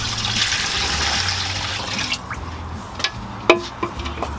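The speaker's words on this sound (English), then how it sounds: "in this pot I'm gonna go ahead and add in my pork bones and some water" Water pours into a pot holding pork bones, a soft running splash at first that gives way to scattered drips and light clunks near the end.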